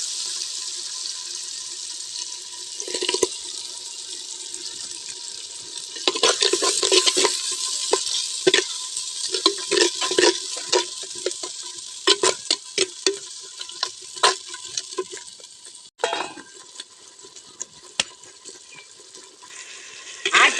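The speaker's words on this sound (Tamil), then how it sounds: "தக்காளி நல்லா வணங்கிருச்சு, ஆட்டி வச்ச மசாலா ஊற்றிக்கலாம்." Ground masala poured into a pan of frying tomatoes and stirred, a steady sizzle with scraping and splashing stir strokes near and loud, no talking, for a rice and dal dish.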